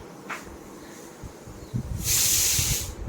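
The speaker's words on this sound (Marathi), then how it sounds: "आता भाजीला बघा छान अशी उकळी आली आहे" A pot of okra curry bubbles and hisses at a low simmer, then a louder burst of steamy hissing rises and holds for about a second.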